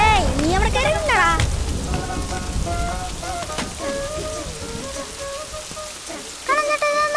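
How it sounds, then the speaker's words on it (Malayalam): Rain falls during a sunny spell in a Malayalam film scene, a continuous patter heard under music and some voices, with a brief rumble mixed in. "ഇതെന്താ മഴയും വെയിലും?"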